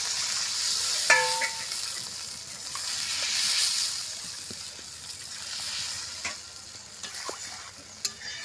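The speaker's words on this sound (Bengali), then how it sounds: "আমি এখন জল দিয়ে দিচ্ছি পরিমাণ মতন" Sautéed spice masala for a snakehead fish curry hisses and sizzles in a pan as water is poured in, with a sharp burst of hiss, then steady frying and a few clinks of stirring.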